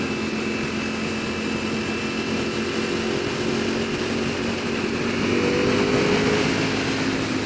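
A 2019 Ducati Panigale V4 motorcycle engine drones steadily and loudly, its pitch rising slightly as it accelerates, with no talking.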